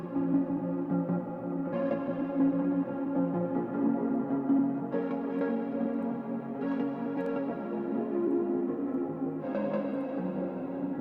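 Soft, hazy synth chords with a smeared, reverberant wash, changing every couple of seconds in a slow, steady progression with no voices.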